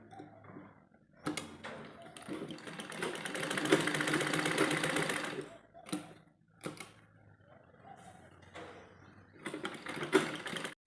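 A sewing machine runs a straight seam on a baby dress (jhabla) in bursts: a long steady run of stitching, a pause, a short burst, then another run near the end, all close and fairly quiet with no talking.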